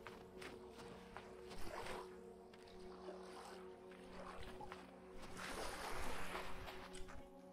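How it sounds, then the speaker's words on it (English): Eerie water ambience in the video game Vintage Story, a low sloshing, lapping wash over a steady hum, swelling toward the end, with no talk. "I think these water noises are actually rather creepy."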